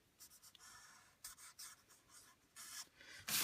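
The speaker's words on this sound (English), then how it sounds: "And I've got this green marker here." A green marker scratches across paper while a bicycle sketch is drawn, in short bursts of strokes of varying length, close and fairly quiet, with a louder scrape at the very end.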